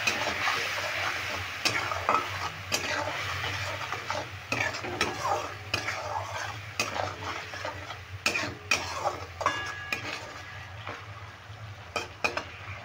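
A spice masala sizzles softly in a pan after a little water goes in, with a low continuous hiss beneath frequent sharp scrapes and taps of a spoon stirring against metal.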